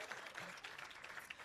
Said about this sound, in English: A round of applause for the nominees.